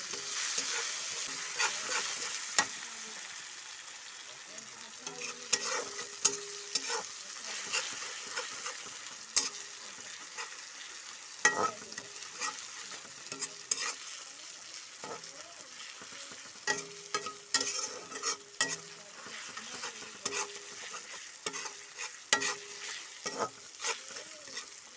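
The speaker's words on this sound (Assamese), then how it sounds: "এতিয়া এই মছলাখিনি মিক্স কৰি দিম" Spices and bitter gourd fry in a pan, a soft steady sizzle broken by frequent scraping and clinking from a spatula stirring the mixture, close and moderately quiet.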